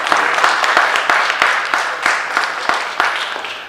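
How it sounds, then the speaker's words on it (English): A crowd applauds steadily, dense clapping with a few sharper individual claps standing out, loud and sustained. "Now, give my sister a round of applause for coming."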